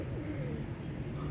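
Pigeons coo softly in a brief, quiet burst of low, throaty murmuring at close range.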